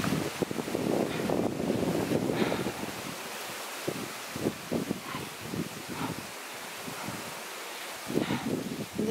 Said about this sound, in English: It is windy, so what the footage is going to come out with the wind